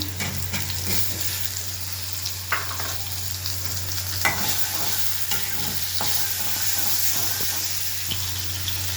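Onion and tomato fry in hot oil with bay leaf in a pan, making a steady close sizzle with scattered scrapes and clicks from stirring throughout, no voices.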